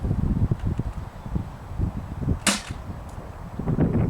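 Jet Blaster CEDA Model-S toy blaster firing a single sharp shot through a chronograph midway, over wind-buffeted outdoor background noise.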